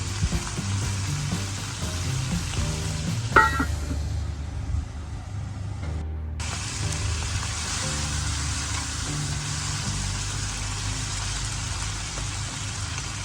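Bottle gourd and eggplant curry sizzling and frying in a pan while being stirred, a steady crackling hiss with a brief louder scrape of stirring near the start.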